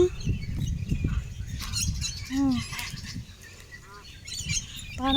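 Large white birds call out at a lake, with a few drawn-out squawking cries rising over a steady outdoor background and low rumbling noise.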